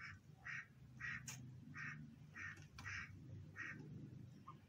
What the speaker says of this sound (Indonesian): Ya, inilah bebek warna putih.